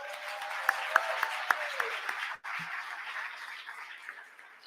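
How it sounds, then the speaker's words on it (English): Audience applause for speakers at a community forum on Latino issues in Ohio: steady dense clapping with a few sharper claps near the start, breaking off abruptly midway and then resuming at a lower level. "Give them a round of applause."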